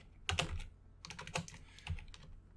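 Quick, light keystrokes patter on a computer keyboard in short irregular bursts, close and fairly quiet, with no one speaking.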